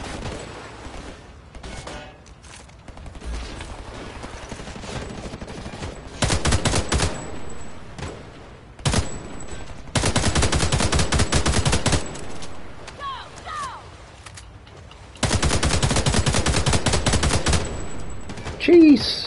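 Bursts of automatic gunfire in Homefront: The Revolution, several loud sustained volleys separated by quieter stretches with single shots and ambient noise.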